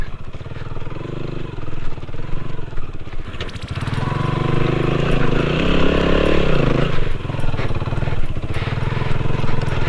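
A Rusi Classic 250 motorcycle on a village ride revs up and runs at a loud, close, steady drone with a gritty exhaust rumble, and a brief quieter stretch before it opens up.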